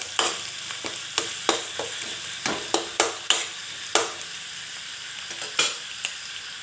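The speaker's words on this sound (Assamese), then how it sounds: "আদা নহৰু পেষ্টটো মই ইয়াতে এড কৰি দিছোঁ। এতিয়া অকণমান ভাজিম।" Ginger garlic paste fries in a pan for chicken curry with a soft, steady sizzle broken by a dozen or so sharp spatula scrapes and taps at an uneven stirring rhythm.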